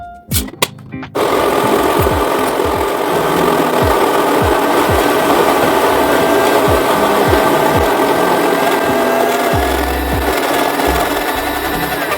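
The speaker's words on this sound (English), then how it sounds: "So to start off, you want to grind your beans." A coffee grinder grinds coffee beans for an Americano, a steady loud buzzing drone running continuously for about eleven seconds after a few opening clicks.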